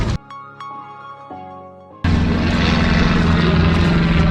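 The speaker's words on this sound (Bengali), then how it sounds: "ওই যে বিমান" An airplane flying overhead at Patenga sea beach, Chittagong, roars in loud and steady for the last couple of seconds, after a quieter stretch of humming tones.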